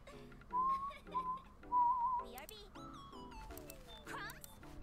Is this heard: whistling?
yes